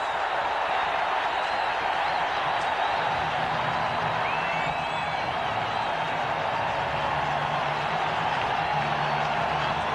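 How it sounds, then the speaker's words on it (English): A stadium crowd roaring after a touchdown in a 1988 Raiders versus Broncos football game, a loud, dense and steady wall of cheering that holds for the whole stretch, with faint whistles rising above it. "This crowd comes to life"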